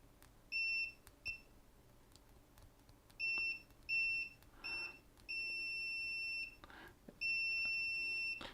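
An Owon XDM1241 digital multimeter's continuity beeper sounds a loud, high electronic beep repeatedly in short and longer tones at an irregular rhythm, close by, with faint clicks and handling noise between.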